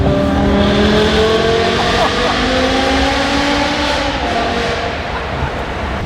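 Straight-piped BMW M5 with a V10 engine and deleted catalytic converters roars steadily through a tunnel, a loud continuous exhaust drone with shifting engine tones and a voice talking over it.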